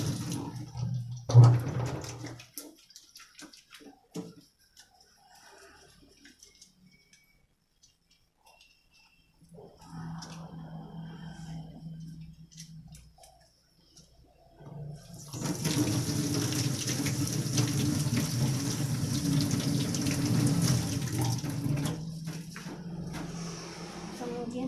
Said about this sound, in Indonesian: kita cuci tangan terlebih dahulu menggunakan air mengalir dan sabun